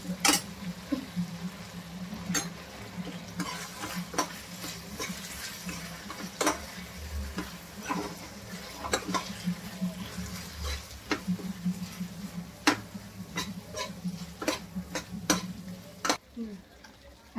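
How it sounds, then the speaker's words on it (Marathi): Fried paneer is stirred into chilli sauce in a pan, with scattered sharp clicks and scrapes of a spoon against the pan over a low, steady sizzle, fairly quiet overall. "आता पनीर आपण तळून घेतलेलं ते टाकूया. मिक्स करूया चांगलं."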